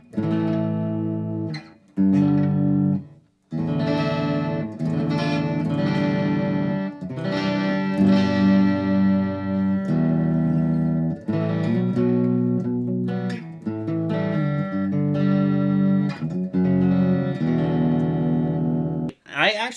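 An electric guitar plays a clean tone through the acoustic channel of a Boss Katana amp. Sustained chords and single notes ring out clearly and close, with short pauses between phrases, and a voice comes in briefly.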